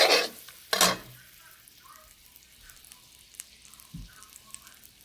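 A teaspoon of butter meets a hot pan for a simple vegetable cook-up, opening with two loud bursts of sizzle that settle into a faint, quiet hiss with a soft knock near the end.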